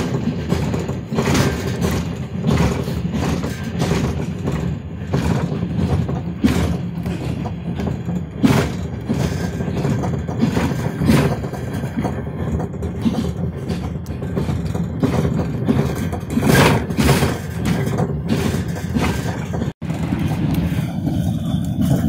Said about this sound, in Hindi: ट्रेन अपनी पूरी रफ्तार के साथ चलते हुए इस वक्त नौशेरा आने वाला है